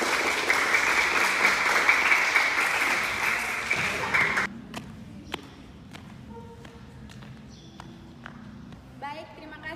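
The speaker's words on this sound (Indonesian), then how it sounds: "Mari kita beri tepuk tangan yang meriah." An audience claps loudly after a school short-film performance, dense applause for about four seconds that then thins into scattered claps and background talk.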